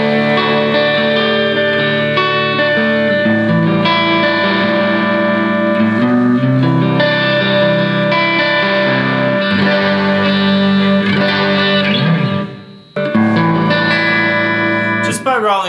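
Electric guitar played through delay and reverb effects, sustained chords and notes ringing with echoing repeats, loud and continuous, briefly dipping near the end before resuming.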